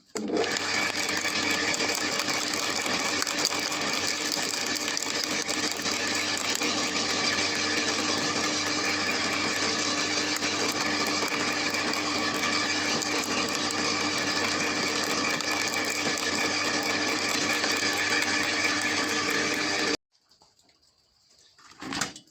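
A loud, steady Parkside PLH 2800 B2 electric garden branch shredder whines and grinds continuously for about twenty seconds, then cuts off abruptly, leaving quiet clatter as it winds down.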